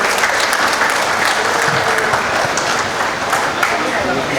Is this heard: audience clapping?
yes